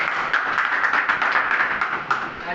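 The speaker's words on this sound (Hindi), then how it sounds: "तो इनके लिए एक जोरदार तालियां।" Steady applause at a congratulations ceremony for a teacher and competitive-exam qualifier: many hands clap continuously and evenly at moderate volume, with no voices.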